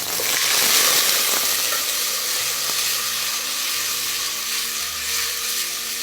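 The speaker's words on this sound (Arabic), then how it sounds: "انزل بالبصله" Onions added to hot oil with cardamom, sizzling and frying in a pan with a loud, continuous, hissing crackle up close and no talking.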